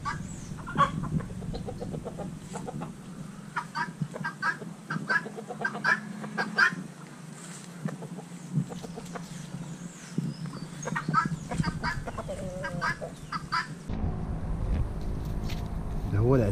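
Chickens clucking and a rooster calling in a backyard coop, with repeated close clucks scattered over a steady low hum, and people talking over them throughout.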